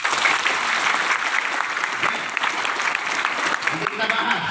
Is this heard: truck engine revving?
no